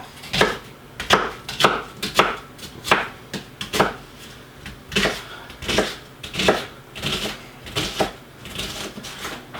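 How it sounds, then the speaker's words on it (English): A knife chops an onion on a board for chili, making about fifteen crisp, close knocks in an uneven rhythm with short pauses between bursts. There is no talking. "reminding me that I am almost done cutting up my onion"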